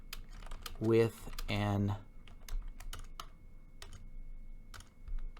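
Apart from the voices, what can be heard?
typing on a computer keyboard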